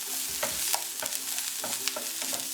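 Ginger and garlic frying in about a tablespoon of oil in a pan, a close crackling sizzle punctuated by repeated sharp scrapes of a utensil stirring.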